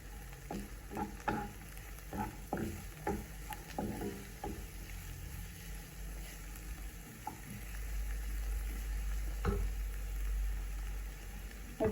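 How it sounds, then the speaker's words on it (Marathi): Onion and finely chopped cabbage fry quietly in a pan while a spoon scrapes and stirs them in quick strokes, then settle into a soft, steady sizzle. "आता आपला कांदा भाजत आलेला आहे आता याच्यात आपण कोबी चिरून टाकूया"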